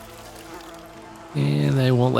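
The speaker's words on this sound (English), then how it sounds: "And they won't let me pick up my bees." Bees buzz in the video game Outbound: a low droning hum that suddenly swells into a loud, harmonically rich buzz partway through and stays close and steady.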